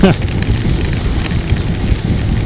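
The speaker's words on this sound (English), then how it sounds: "like this rain that is pouring now" Heavy rain pours down steadily in a dense, unbroken wash of close noise that holds even loudness throughout, with no voices.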